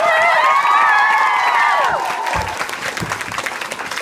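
An audience at a book event welcomes authors Holly Black and Cassandra Clare with steady applause and high excited cheers and whoops that fade into scattered clapping.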